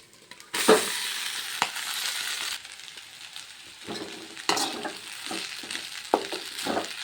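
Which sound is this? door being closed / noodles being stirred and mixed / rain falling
noodles being stirred and mixed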